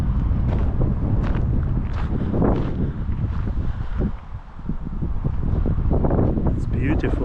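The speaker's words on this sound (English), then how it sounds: "Windy and cold." Steady, blustery wind roars across the microphone throughout, buffeting it with low rumbling gusts, and a voice talks intermittently underneath.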